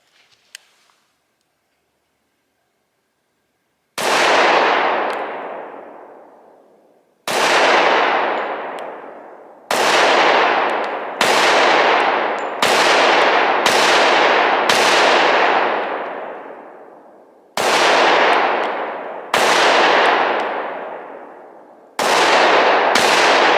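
Loud gunshots from a Smith & Wesson M&P 10mm Auto pistol, nine sharp reports fired one at a time at irregular intervals after a short quiet start, each with a long ringing decay, no talk.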